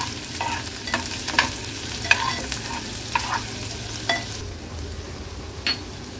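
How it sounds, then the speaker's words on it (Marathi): Onion and crushed garlic fry in hot oil in a kitchen, a steady soft sizzle broken by repeated scraping stirs of a spoon against the pan, close and unaccompanied by talk. "कांदा आपल्याला तेलात शिजवून घ्यायचा आहे।"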